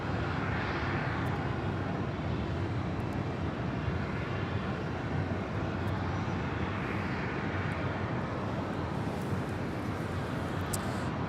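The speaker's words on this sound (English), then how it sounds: "we got the Philippine at 777-300ER heading back to Manila, flight 103, now rolling down, 25 right." A Philippine Airlines Boeing 777-300ER rolls for takeoff on runway 25 right at Los Angeles International Airport, a broad steady jet roar that holds strong and constant from start to finish without voices.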